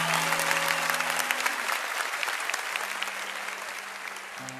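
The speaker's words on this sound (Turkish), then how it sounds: "Efendim bir kocaman alkış hak etmezler mi kendileri?" A studio audience claps for guests Mümtaz and İhsan on a Fenerbahçe-themed show, sustained dense applause over the whole stretch, with faint tonal hum beneath.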